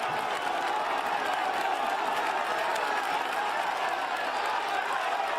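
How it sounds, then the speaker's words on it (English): A dense roadside crowd roars and applauds continuously at a mountain-top finish of the 2012 Vuelta a España stage 16 on the Cuitu Negru climb, a loud, unbroken wash of cheering that may carry faint voices within it. "Just listen to the crowd."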